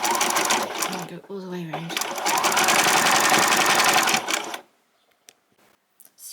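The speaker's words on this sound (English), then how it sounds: "I'm just going to change it over to a zigzag, which is number 7 for me." A home sewing machine running a zigzag stitch on bias binding for a white summer top whirs loudly and steadily for about four seconds before stopping, with someone talking briefly over it.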